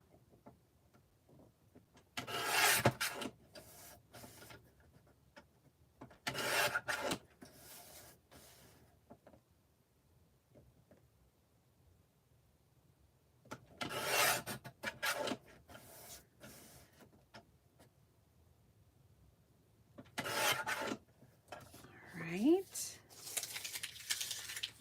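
Scissors trimming paper ephemera for a handmade paper bag journal, heard as three or four separate bursts of close crisp snipping and paper rustle with quiet pauses between them, plus a short final flurry.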